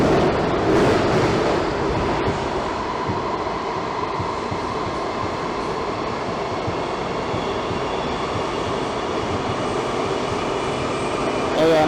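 WMATA Metrorail Kawasaki train, car 7653, running on the Red Line and picking up speed in the tunnels after Grosvenor; a loud, continuous roar of wheels and motors that holds steady for the whole stretch.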